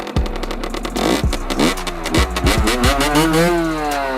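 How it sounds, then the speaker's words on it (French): A stock 50cc motorcycle engine is revved repeatedly, sharp throttle blips rising and falling in pitch several times in close succession, loud and near, settling into a higher steady whine at the end. "Donc j'accélère plusieurs fois. Pour que la moto elle prenne vraiment les tours."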